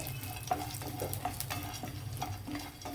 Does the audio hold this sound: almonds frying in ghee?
yes